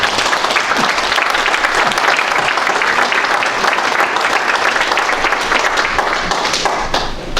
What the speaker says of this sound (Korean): 박수로 환영해 주시기 바랍니다.